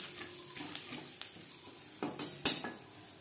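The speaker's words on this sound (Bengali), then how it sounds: "15-20 সেকেন্ড 5 ফোড়ন তেজপাতা ভেজে নেওয়ার পর দিয়ে দেবো পেঁয়াজ" Soft sizzle of a bay leaf and panch phoron frying in hot oil in a pan that was used to fry fish, low and steady, with a few stirring clinks and one sharp knock.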